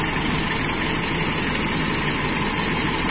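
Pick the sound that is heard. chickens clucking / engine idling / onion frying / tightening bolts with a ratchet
engine idling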